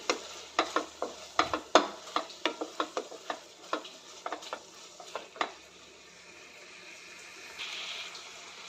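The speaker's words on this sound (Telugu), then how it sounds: "జింజర్ గార్లిక్ స్మెల్ వెళ్ళిపోయేంత వరకు ఫ్రై అవనియండి." Ginger garlic paste frying in a pan for a prawn curry, a soft sizzle broken by a quick run of close clinking stirs from a utensil that stop partway, leaving the quiet frying alone.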